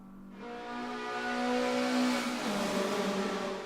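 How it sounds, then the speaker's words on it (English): Mazda race car nicknamed the Trumpet driving through a tunnel, its engine note holding a strong steady drone and rising in pitch, loud and echoing, then dropping as it shifts and carries on. "the Trumpet is definitely in contention for the best sounding car through that tunnel"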